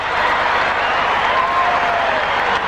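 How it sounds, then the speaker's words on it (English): A dense, roaring crowd cheers at a 1984 NBA Finals basketball game at the Forum, a steady wash of applause and voices filling the arena, with a commentator's voice faintly audible. "The action is non-stop, end to end, and the crowd loves it here at the Forum"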